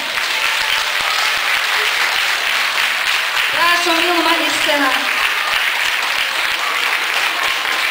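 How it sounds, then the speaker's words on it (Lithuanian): Steady audience applause at a kindergarten end-of-school-year celebration, honouring the children's dance club leader, a continuous dense clapping throughout while a voice speaks briefly over it midway. "Plojimai."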